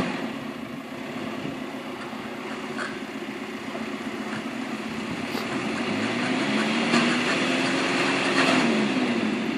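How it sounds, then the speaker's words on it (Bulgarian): A small engine runs steadily and fairly loudly, with a constant droning hum that swells slightly and shifts pitch toward the end, with no talk over it. "Гаси мотора, гаси, стига"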